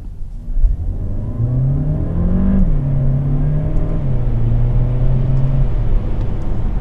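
A VW Passat GTE plug-in hybrid running on its 1.4-litre petrol engine accelerates from first gear, a loud close in-cabin drone whose pitch climbs, drops at a gear change and climbs again steadily.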